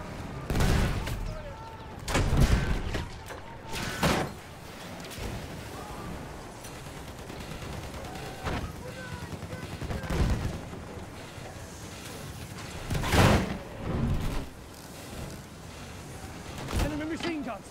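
Machine gun and rifle fire rattles in the Battlefield 1 River Somme battle with a landship, heavy bursts and booming explosions recurring over several seconds, loud and close, with voices calling out amid the combat noise.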